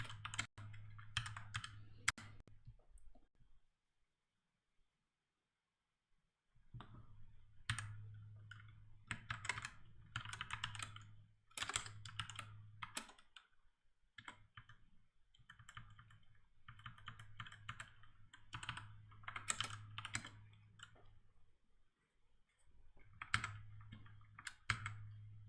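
Fingers tap rapidly on a computer keyboard in bursts of clicks separated by short pauses. The typing runs close and quiet through a long stretch, with no talking.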